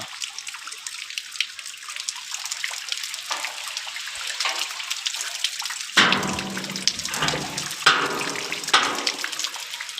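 Water runs and splashes steadily, with louder gushing surges after the midpoint, heard alone without voices.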